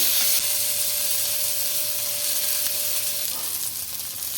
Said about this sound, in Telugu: కొద్దిగా ఆయిల్ వేసి తీసుకుంటున్నా ఇందులోకి టమాటా ముక్కలు అయితే వేసుకుంటున్నాను